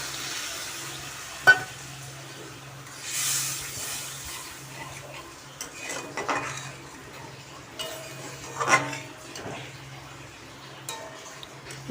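Water poured into a pan of spice paste with green chillies for a parshe fish curry, giving a soft hissing sizzle and splashes with a few clinks, moderately close, with no talk.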